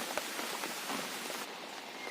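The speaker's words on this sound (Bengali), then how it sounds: "এ দেখুন কেমন বৃষ্টি হচ্ছে" Steady rain falls on a rooftop terrace beside a mango tree, a continuous hiss of drops pattering close by, soft and even with no voices.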